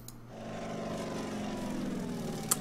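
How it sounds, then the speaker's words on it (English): A propeller aircraft drones steadily in a World War II strategy game set on Bougainville with US Marines, a continuous engine hum holding at moderate loudness, with a brief sharp tick near the end. "I like the airplane as well."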